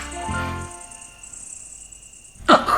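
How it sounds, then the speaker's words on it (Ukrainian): Crickets chirp at night in a steady high, faint trill that runs through the whole stretch, with a soft tonal passage early on and a brief louder burst near the end. "Все засинає навкруги під співи цвіркунів"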